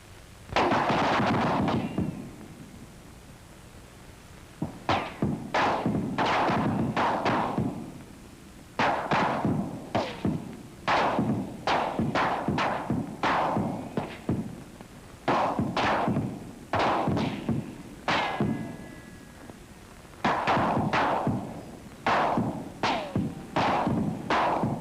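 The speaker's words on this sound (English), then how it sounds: "Now listen to 12 Springfields as the soldier under fire hears them." Volleys of rifle fire from twelve Springfield rifles, as heard by an infantryman under fire in a WWII training setting: sharp cracks in irregular clusters and rapid bursts, loud and close, continuing steadily with brief pauses between volleys.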